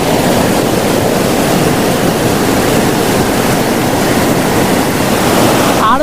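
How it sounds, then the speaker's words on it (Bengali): Beriya Pathar waterfall in the Mahendragiri hills of Odisha, water pouring straight down between surrounding hills, roaring as a loud, steady, broadband rush that stays constant throughout with no voices. "চারিপাশে পাহাড় আর মাঝে দিয়ে বয়ে চলেছে এই বেরিয়া পাথর ওয়াটারফল"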